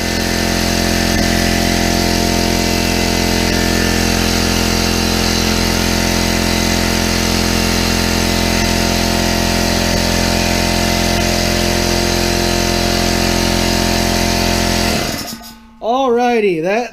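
A Harbor Freight air compressor runs loud and steady, filling its tank toward 100 PSI, with a constant motor drone that cuts off abruptly near the end, followed by a brief wavering tone.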